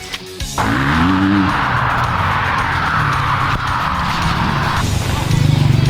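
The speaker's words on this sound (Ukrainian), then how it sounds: "Все, чуєте цей гул моторів." Loud, continuous motorcycle engine roar at a motocross track, with a rising whine at the start and steady droning motors throughout, close and intense.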